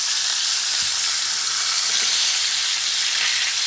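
Halal beef shanks sear in a hot pan, giving a steady, loud, hissing sizzle throughout with no pauses.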